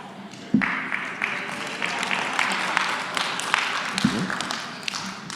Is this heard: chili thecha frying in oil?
no